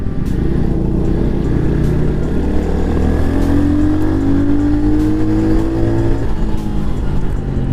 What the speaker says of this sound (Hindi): सेकंड गियर पे बाइक 80 की स्पीड टच कर रही है